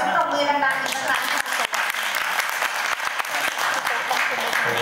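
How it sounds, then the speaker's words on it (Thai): An audience at a book launch and poetry discussion applauds loudly, many hands clapping in a dense, sustained burst with sharp individual claps standing out and voices mixed underneath. "ขอเสียงปรบมือดังๆอีกครั้ง"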